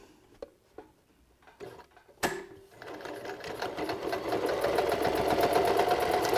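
A sewing machine runs a straight-stitch 3/8 inch seam on a beanie, starting after a few light clicks and a sharp clack, then humming with a fast, even needle rhythm that builds in loudness and keeps going to the end.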